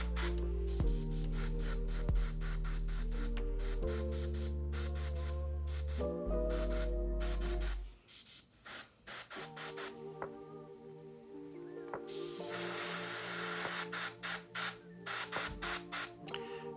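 An aerosol can sprays bright orange paint onto miniature lava bases, a hissing burst of a couple of seconds heard beneath background music.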